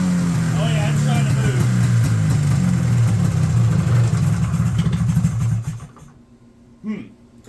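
A 1979 Polaris Apollo snowmobile engine idles roughly with a loud, close, uneven drone and stumbling pulses, then cuts out near the end, leaving a short quiet gap; a voice talks over it.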